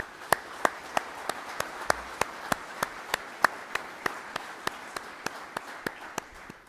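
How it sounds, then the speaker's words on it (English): A thin, sparse audience at a college graduation ceremony applauds in slow, evenly spaced claps, sounding like a few hands clapping steadily over a soft room hum. "let's give all of these college employees a round of applause"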